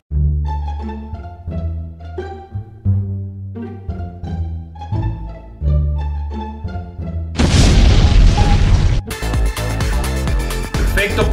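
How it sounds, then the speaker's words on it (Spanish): A balloon unit bursts in an explosion in the mobile game Clash Royale, a loud broad noisy blast that cuts in late after tonal game music and chimes, followed by further bright crackling game effects. "voy a lanzar el globo atrás. Voy a frenar todo eso. Muere, exacto, para que la explosión mate a los bárbaros élites."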